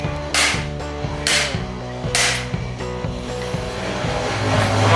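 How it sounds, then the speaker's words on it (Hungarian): An impact screwdriver struck with a hammer to remove a crank arm: several loud, sharp metallic blows at an uneven rhythm, close up, over a steady low engine hum. "Egyébként üthető csavarhúzó."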